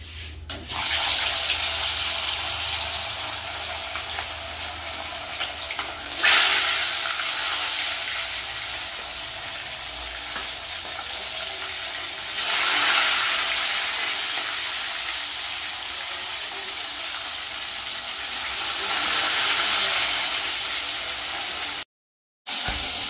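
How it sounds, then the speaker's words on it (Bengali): Gurjali fish frying one by one in hot oil in a home kitchen, giving a steady broadband hiss with a few surges and no talk, briefly cutting out near the end. "তেল কিন্তু গরম হয়ে গেছে ভালোভাবে, এবার একে একে মাছগুলো ভেজে নেব"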